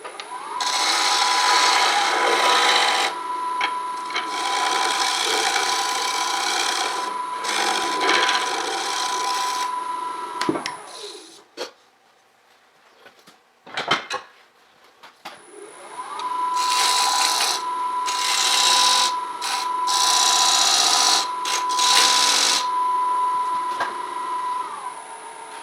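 A parting tool on a wood lathe cuts into a small, very dry elm bowl, giving a steady scraping rasp over a constant motor whine. The cutting runs in long loud stretches, stops briefly in a quiet gap, then resumes.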